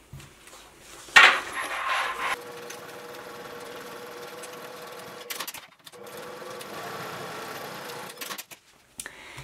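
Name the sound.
sewing machine top stitching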